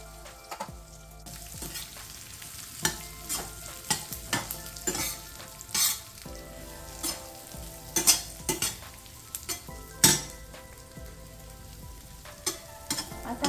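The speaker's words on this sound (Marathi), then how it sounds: "जिरे तडतडले का त्यात आपण ही भेंडी टाकणार आहे" Okra hitting hot oil with crackled cumin in a pan for stuffed masala okra, a continuous close sizzle broken by repeated sharp clinks and scrapes of a spoon stirring, with no talk.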